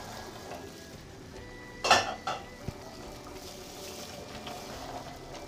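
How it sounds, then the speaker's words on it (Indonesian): Goat meat being stirred in an opened cooking pot, a few brief metallic scrapes and clinks of a utensil against the pot over a quiet background. "Sekarang kita aduk"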